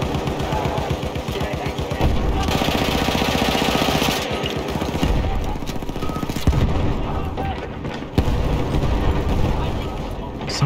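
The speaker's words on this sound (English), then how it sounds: "So many explosions." Relentless explosions and gunfire in a Battlefield 1 Conquest battle at Fort De Vaux: rapid machine-gun bursts, heavy booming blasts and rumbling detonations layered continuously, loud and chaotic, with a voice faintly under the din.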